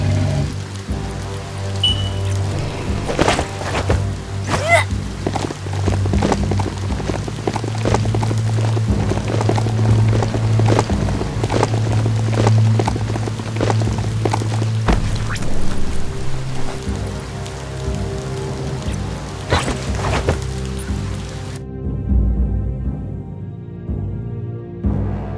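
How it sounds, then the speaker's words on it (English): Steady rain falls in the Biomutant video game, a dense patter of drops on surfaces with a low droning tone underneath, holding a constant level before thinning out near the end. "Rain gets any worse, you could dissolve."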